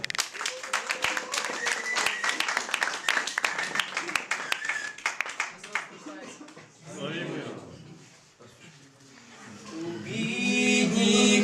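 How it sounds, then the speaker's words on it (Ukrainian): An audience at a Ukrainian carol farewell celebration claps and applauds a first-year student group and its nativity play, a dense, lively round of clapping that fades after about six seconds as singing voices take over. "А зараз ми вітаємо оплесками перший курс з їхнім вертепом"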